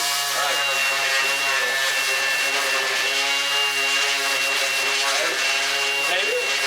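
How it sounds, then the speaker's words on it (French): A Bosch GEX 18V-125 cordless random orbit sander works on wood, giving a steady, loud, close motor whine with a rough abrasive rasp that runs without a break the whole time. "lorsque je vous ai dit que c'est une petite ponceuse mais qui a de la ressource, c'est vrai qu'elle a de la puissance"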